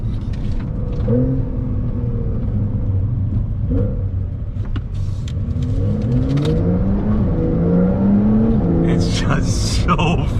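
A Porsche 911 Carrera 4 GTS, all-wheel drive, accelerating hard, its engine note climbing through rising sweeps with a loud continuous rumble heard from inside the car, no voices over it.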